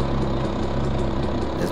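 A motorbike engine from the mobile game Wheelie Life 2 hums as a steady, dense, unbroken drone throughout, loud and close with no talk.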